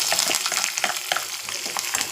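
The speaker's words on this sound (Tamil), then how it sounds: "வெங்காயத்தை போட்டுக்கலாம்." Onions frying in a pan over a high flame, a dense crackling sizzle with bursts of spitting, close and fairly loud without talk.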